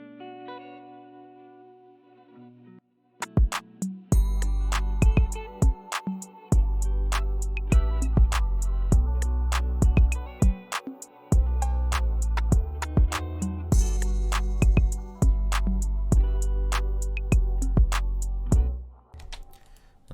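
An R&B-style guitar beat runs through a Crystallizer granular delay, with sparse notes opening before steady drums enter; each note smears into shimmering, repeating echoes, loud and alone with no talking.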